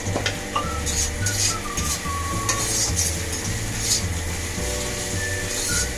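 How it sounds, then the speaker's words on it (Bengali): Bitter gourd fries in hot oil, a continuous sizzle broken by scraping stirs and light clinks of a utensil against the pan, close and fairly loud. "দেখুন করলাটা ডিপ ডিপ করে ভাজা হয়ে গেছে"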